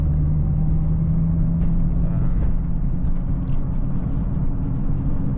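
Steady low engine and road rumble inside a Nissan R35 GT-R creeping through traffic, a continuous near drone with faint passing noise and no talking.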